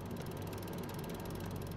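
A coffee machine running in the Lego City Undercover video game, a quiet rapid mechanical ratcheting whir that repeats evenly throughout, faint and alone.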